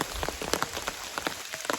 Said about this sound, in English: now it's raining and very cold